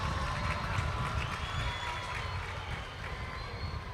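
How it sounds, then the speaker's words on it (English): A youth rally crowd applauds the minister in a big, reverberant space; the clapping is broad and continuous, with a low rumbling wash beneath it and no clear voices. "Let's give the minister a round of applause"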